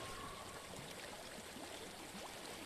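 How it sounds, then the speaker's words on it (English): A flowing stream in the video game Hellblade: Senua's Sacrifice gives a steady, soft rush of water, with faint gurgles running underneath through the whole short stretch. "I hear water."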